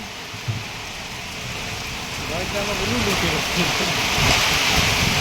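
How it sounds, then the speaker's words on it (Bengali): Heavy rain and gusting wind from a violent storm roar steadily and loudly close to the microphone, a dense wash that builds slightly, with a voice faintly audible beneath it. "বৃষ্টি আমার গায়ে পড়ছে।"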